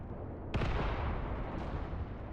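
Mortar rounds impact in the war game Mius Front: one sharp, distant boom lands about half a second in and rolls off into a low rumble over a quiet background.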